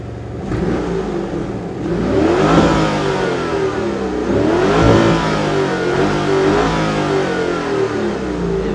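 A powerful Lamborghini Urus SE engine in Corsa mode revs and accelerates loudly up close, pitch climbing in surges with a deep, throaty growl.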